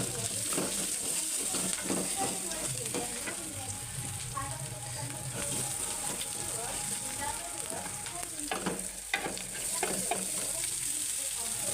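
Cooked rice dropped into a hot frying pan and stirred, with steady close sizzling and frying crackle plus scraping stir strokes, moderately loud throughout.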